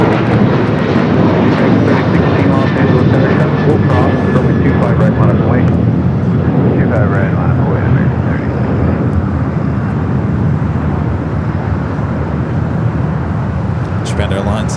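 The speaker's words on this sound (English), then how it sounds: "a 747-8 freighter going to be taking off here on the south." A Cargolux Boeing 747-8 freighter takes off at LAX, its jet engines a loud, broad roar that holds steady and slowly fades, with a commentator's voice heard over it.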